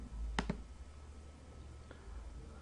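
A computer mouse gives a quick, close double click, followed about a second and a half later by one fainter single click in a quiet room.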